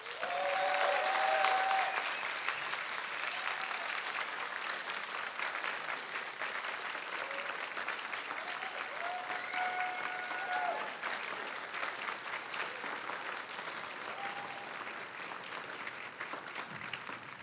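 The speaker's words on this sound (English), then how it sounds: "put your hands together and give a massive round of applause to" Sustained audience applause for a pitch presenter at a city pitch-final event, a dense wash of many hands clapping steadily for the whole stretch, with faint voices mixed in.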